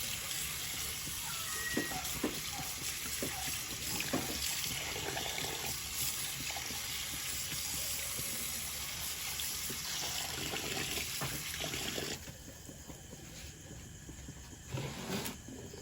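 Tap water runs steadily at close range while food is rinsed clean before cooking, a broad continuous wash of flow that drops lower and quieter toward the end.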